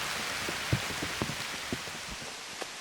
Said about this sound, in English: It's raining pretty hard now.